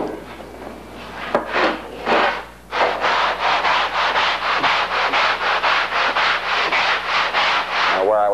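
Rhythmic rasping strokes of a sanding bar across a foam wing core, steady back-and-forth scrubbing close by, with no talking.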